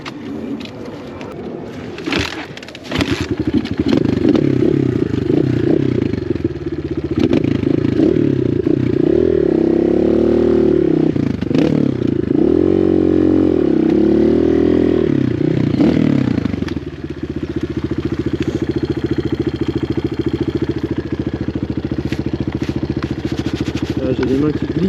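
An SMX 250 motorcycle engine runs loud and close, rising and falling through repeated revs with a rough, clattering edge, then settling to a steadier drone; someone speaks briefly over it.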